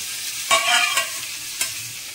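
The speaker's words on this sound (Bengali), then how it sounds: "ফুলকপিটা একটু অল্প ভেজে নিয়েছে, তারপরে আলু আর গাজর দিয়েছে জিরো ফোড়ন দিয়ে তেলে" Potato and carrot pieces frying in white oil with cumin seeds after cauliflower, a steady close sizzle broken by a few sharp scrapes of stirring.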